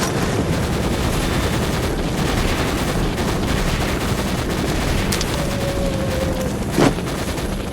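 A full magazine emptied in S.T.A.L.K.E.R. as continuous rapid automatic fire, dense and steady for the whole stretch, with no pauses and no voices.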